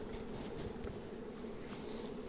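A honeybee swarm buzzing at a twelve-frame Ukrainian beehive, a continuous droning hum held steady and fairly faint throughout.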